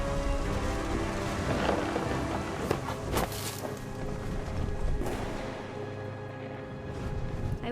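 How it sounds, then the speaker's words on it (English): Rain and thunder in the game What Remains of Edith Finch, with a steady dense downpour throughout and a few rumbling, crackling thunder swells rising over it, fairly close and loud. "The thunder sounded much too close and full of angry power."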